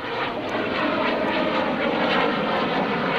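A steady, loud propeller airplane engine roars continuously during an airshow roll maneuver, a strong broadband drone holding level throughout with no voices.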